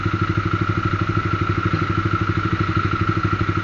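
A Honda CBR 150 CBU motorcycle engine runs steadily nearby, a rapid even pulsing thrum with a slight mechanical clatter, holding a constant pace throughout.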